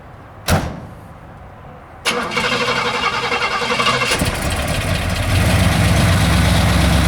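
A 1976 Cadillac Eldorado: a door thumps shut, then the engine cranks and catches, settling into a loud, steady idle close by.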